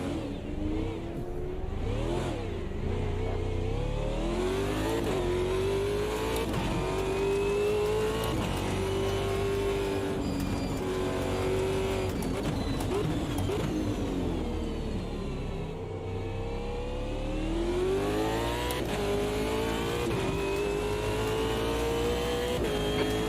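A race car engine in a racing game revs and climbs through its range, dropping pitch at each gear change, a loud continuous drone with repeated rising sweeps.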